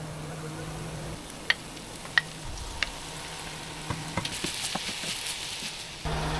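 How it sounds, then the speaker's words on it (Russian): Onions, carrots and peppers fry in a pan for borscht, making a soft, continuous sizzle with a few sharp clicks of a utensil stirring nearby. "теперь нужно пожарить лук, морковку, перец"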